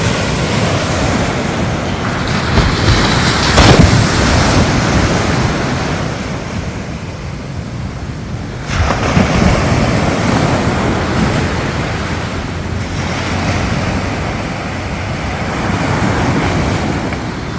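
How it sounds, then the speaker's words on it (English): Rough sea surf pounds and rushes continuously, loud and close, with gusty wind buffeting the microphone and no voices. "Rough sea."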